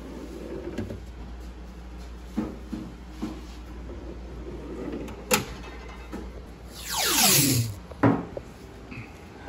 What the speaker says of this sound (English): we're trying to get this thing taped up